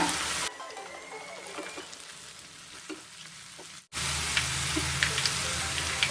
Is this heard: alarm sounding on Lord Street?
no